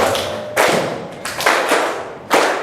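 A group of schoolchildren claps together in a few separate bursts of rapid clapping, fairly close, with short quiet gaps between them and no talking.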